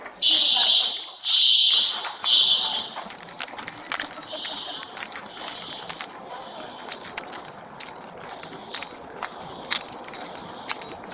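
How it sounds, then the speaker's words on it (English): A hotel fire alarm sounds loudly in repeated long electronic tones, with a shrill pulsing horn over hallway noise, footsteps and people talking nearby. "just be advised it's a fire alarm."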